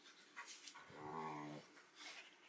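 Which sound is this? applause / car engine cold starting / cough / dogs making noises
dogs making noises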